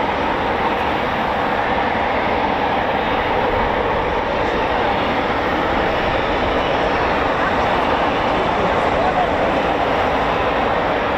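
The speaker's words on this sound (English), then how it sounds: "Here we go, plenty of Typhoons to come out now." RAF Eurofighter Typhoon FGR4 jets at an RAF training and QRA station give off a steady broad roar of engines, loud and sustained without a break, rumbling from a fixed spot.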